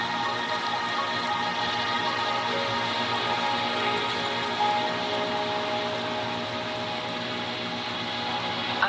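Steady, even rain hisses without pause through a Wuthering Waves cutscene, a dense wash of falling water holding at one level with no voices.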